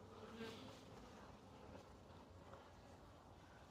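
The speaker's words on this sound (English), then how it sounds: "bees that are just starting to fly out of the hive." Honeybees buzzing outside their hive on orientation flights after rain, a soft continuous drone of many insects with brief louder passes near the start, faint overall.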